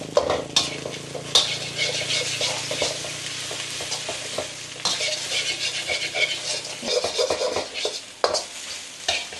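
Metal spatula scrapes and taps against a hot wok as rice is chopped and broken up for Thai pork fried rice, with steady sizzling frying and repeated clanks close up.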